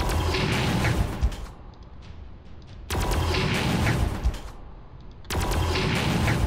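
Guns fire in the video game Armageddon, dense sustained bursts of loud rattling gunfire in three long volleys separated by brief quieter gaps.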